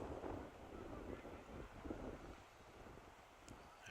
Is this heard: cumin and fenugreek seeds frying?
no